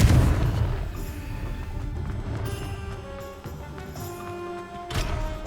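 Confringo explosive spell blast in Hogwarts Legacy, a loud burst at the start followed by a ringing, tonal tail and another sharp impact near five seconds, with no talking.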